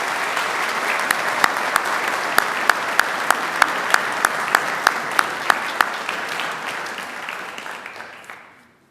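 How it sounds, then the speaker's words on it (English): Audience at the 2018 CMHOF induction ceremony giving a round of applause for Castrol Canada, a loud, sustained wash of clapping with a few sharp individual claps standing out, fading away near the end. "let us give a huge round of applause for a Canadian corporation that does so much for our sport"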